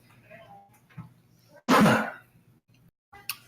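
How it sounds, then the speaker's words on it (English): A single sharp cough or throat-clear bursts out loudly mid-clip during a tabletop roleplaying session, standing out against faint background murmur and a brief later noise. "Doesn't help to have a cough button if you forget to release it when you cough."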